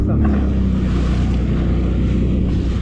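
A jet ski engine running on open water, a loud, dense, steady motor roar with wind buffeting the microphone, continuous throughout the short stretch.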